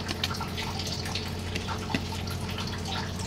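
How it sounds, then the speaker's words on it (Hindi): Water poured into a pot of leftover rice during home cooking, a steady liquid trickle and splash with faint drips, close by over a low background hum. "अब इसमें हम ऐड करेंगे पानी, तो ये हम ऐड कर रहे हैं इसमें पानी"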